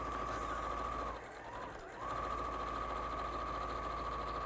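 A sewing machine runs steadily while stitching the bottom frill of a Lewes skirt, with a short pause partway through before the motor hums on again, close and loud.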